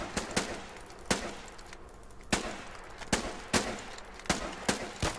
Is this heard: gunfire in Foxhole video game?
yes